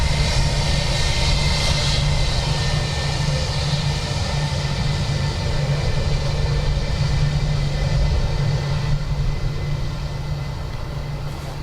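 An Airbus A320-200 fitted with neo winglets at Dublin Airport, heard as a loud, steady engine roar with a deep low rumble, sustained throughout and slowly easing, with no voices over it.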